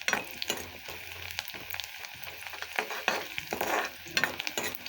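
A vegetable bhaji is stir-fried in a pan, with a steady sizzle under repeated scraping and stirring strokes from a spatula, moderately close and fairly quiet.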